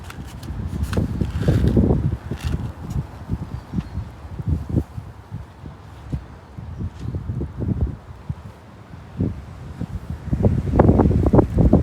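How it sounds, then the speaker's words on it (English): Gusty wind blowing through an outdoor garden during seed sowing, with repeated rustling buffets and low rumbling rising and falling close to the microphone, growing stronger toward the end. "So it's still very windy"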